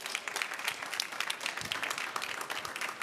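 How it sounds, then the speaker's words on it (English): Audience applause for a livestock and climate panel at a COP29 dialogue session, a steady wash of many hands clapping at moderate distance throughout, with no break. "Please give them a round of applause."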